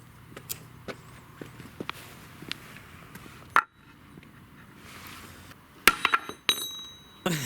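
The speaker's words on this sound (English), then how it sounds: "strike it with a hammer and break it" A hammer strikes thick steel weld beads in a series of sharp metallic clinks, quiet ones first, then a hard hit and a cluster of louder, ringing impacts near the end.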